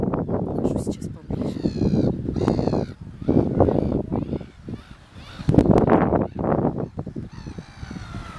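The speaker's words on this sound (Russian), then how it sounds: "Вот островок, и там птички. Их очень много." A flock of birds on a small island near an estuary honks and calls in repeated bursts, some of them fairly close, while a person talks over them throughout.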